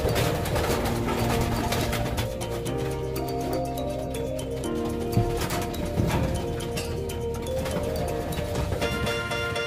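Racing pigeons in an extension loft coo in low, soft repeated calls, mixed with wing flutters and shuffling close by, and other bird sounds layered through the steady background.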